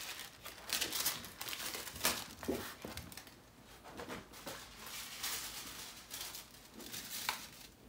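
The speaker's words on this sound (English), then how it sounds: "first I'm going to remove the washi tape, and then I'm going to remove the foil." Washi tape and foil are peeled away from cardstock, giving a continuous stretch of soft crinkling and tearing rustles with repeated small bursts, fairly quiet and close.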